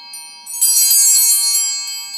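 Hand bells are rung slowly and loudly, a bright shimmering metallic ring that swells after a lighter opening strike and lingers with a gradual decay.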